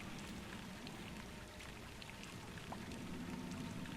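Fresh water flows from a steam boiler in the Oxygen Not Included video game, a steady, faint rushing and pattering like light rain that continues evenly throughout with no speech.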